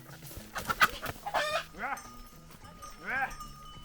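A village rooster gives short clucks and rising crow-like calls in bursts, close by, over a noisy farmyard with other faint animal sounds.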